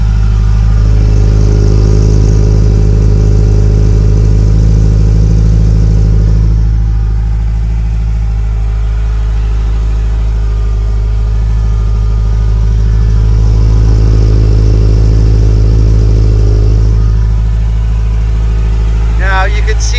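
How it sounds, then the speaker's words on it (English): A 1981 Ferrari 308 GTSi with a 5-speed manual and twin exhaust exits revs loudly up close, its deep engine and exhaust note rising and falling in long swells over a constant heavy rumble; a voice speaks over it. "That's a good listen to the engine, and I'll get up close to the exhaust here."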